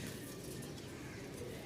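Two pairs of pigeons kept for sale give soft, low cooing that carries on throughout under a dull, muffled background, faint and without clear speech.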